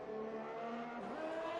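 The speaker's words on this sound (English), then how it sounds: "On Camel Straight in his number 2 Ferrari car." A Ferrari Formula 1 car in the F1 2021 racing game screams along Kemmel Straight at Spa on a hot lap, a steady high-pitched engine whine with a brief gear-shift dip, heard without talk.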